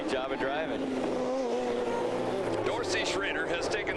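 GTO/GTU race cars at the 1990 Long Beach Grand Prix roar through traffic on the short chute, engines droning and rising in pitch, with commentary running over the racing noise.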